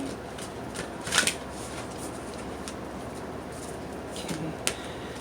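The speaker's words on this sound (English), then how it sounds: "I'm gonna shuffle off camera." An Animal Spirit Oracle card deck is shuffled off camera, quiet papery riffles with two brief louder flurries of cards snapping together against a soft room hiss.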